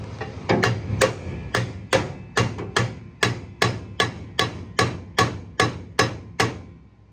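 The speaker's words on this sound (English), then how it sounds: "So if we beat the wheel cylinder, maybe the arms that go out on each side will kind of retract." Stuck wheel cylinder on a 1986 Ford F150 struck with a hammer, about fifteen loud ringing metallic blows in a steady rhythm, close by and alone.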